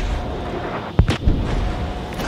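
Naval gun salvo from the British cruiser HMS Dido in a warship battle game, one sharp boom followed by a rolling blast over a constant engine-like rumble.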